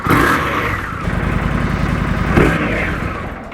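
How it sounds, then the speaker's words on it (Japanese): A Harley-Davidson Street Bob or Indian Scout motorcycle engine runs close by with a dry, clattering mechanical rattle over a steady low throb, briefly revving up twice. "乾いたガラガラっていうようなメカノイズが聞こえるんですけど"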